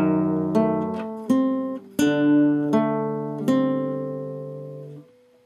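Guitar picking a short Moonlight Sonata passage, about six plucked notes and double-stops in a slow, even rhythm, each ringing out and decaying, close and clean with no talk.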